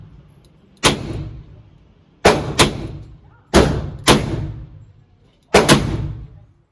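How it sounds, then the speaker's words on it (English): Smith & Wesson 686 Plus revolver with a 7-inch barrel firing .38 Special and .357 Magnum rounds: five sharp, loud outdoor reports spaced irregularly, each with a short ringing decay, and no voices between them. "I'm going to let you listen to these 4 shots. The first 2 are 38 special, the next 2 are"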